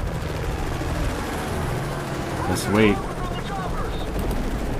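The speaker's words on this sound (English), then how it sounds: "We're shooting off the chopper." Helicopter gunfire in Call of Duty Modern Warfare 3 plays as a steady, loud rotor-and-weapon roar with a brief louder burst in the middle, while a person speaks over it.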